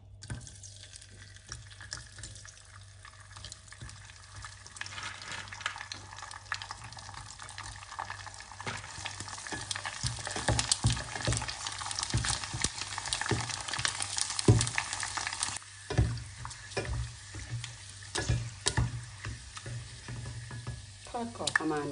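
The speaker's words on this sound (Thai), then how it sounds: "พอน้ำมันเดือดแล้วก็เอาลงทอดได้เลยค่ะ" Crispy pig ears deep frying in a small amount of boiling oil, a steady dense crackle and sizzle with brighter pops throughout, close and continuous with no talk.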